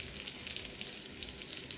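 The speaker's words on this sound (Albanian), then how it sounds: "edhe patlıgjani duhet jetë i skuq tamam" Eggplant frying in a pan gives a steady, close sizzle of hot oil with light crackle, a short stretch with no voices.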